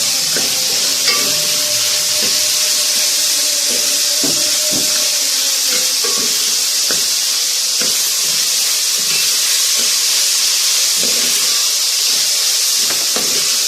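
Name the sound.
green capsicum and mint frying in a pan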